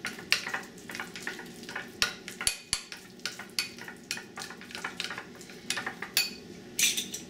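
A sauce of bean paste and chili garlic sauce is stirred in a bowl, with quick repeated scraping and clinking strokes of a utensil over a faint sizzle-like hiss, close and without speech.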